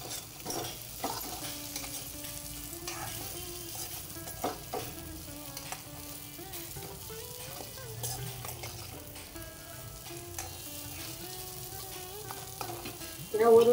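Spiced shengole hit a pan of reddened onion tempering, giving a continuous close sizzle under repeated scraping and clinking of a stirring spoon, with faint voices humming in the background and a louder burst near the end.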